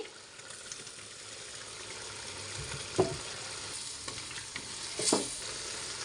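Small fried prawns go into a pan of spice masala cooked down until the oil rises, a steady low sizzle with a couple of sharper stirring scrapes near the middle and end, no talking.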